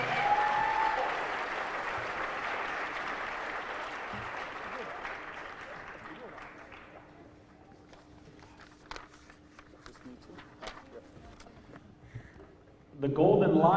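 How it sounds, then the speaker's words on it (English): Audience applause fills the hall at a senior awards night for honored students, loud and steady at first, then thinning into scattered claps and footsteps before a voice cuts in near the end. "Another round of applause."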